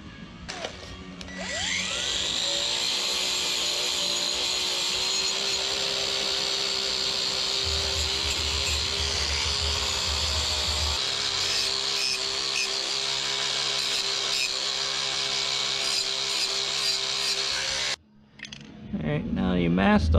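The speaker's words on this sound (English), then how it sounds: "hit it with the wire cup" A wire cup brush on a power tool whines steadily as it scrubs rust off a metal part before painting with VHT Wrinkle Plus black, a loud continuous grinding hiss that briefly stops near the end before spinning up again.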